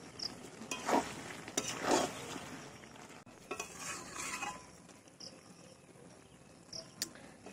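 Stirring a chicken skin curry with boiled vegetables in a pan: a spoon scrapes and clinks against the metal at a slow pace, with a soft sizzle underneath, fairly quiet with no voices.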